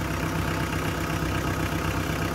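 A Mitsubishi 4D56 diesel engine idles after its fuel injection pump has been adjusted, a dense, steady knocking clatter heard close and continuous with no talk.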